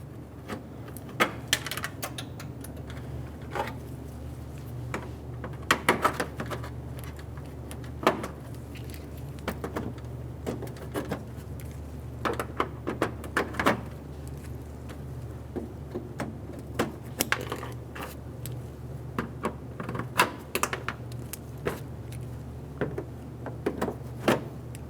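Plastic trim clips being popped off the top trim piece of a 2003-2008 Honda Pilot, sharp snapping clicks scattered irregularly over a steady low hum, some in quick clusters, close and fairly loud; no talking.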